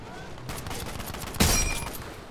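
Gunfire in a video game, including a sniper rifle shot, with a sharp loud report near the middle that rings out briefly over a steady wash of background battle noise and scattered shots.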